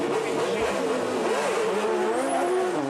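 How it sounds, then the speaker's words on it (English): Daigo Saito's loud Fat 5 Racing drift car revs hard at Formula Drift Japan, Sportsland Sugo, a continuous close, rough engine roar with rising and falling pitch throughout. "You got the loud car, Daigo Saito"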